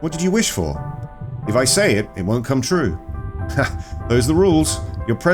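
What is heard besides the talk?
No everyday noise stands out behind the speech.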